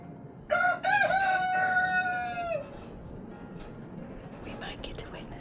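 Hens in a nesting box give a loud, drawn-out squawking call for about two seconds, followed by soft clucks and rustling close by.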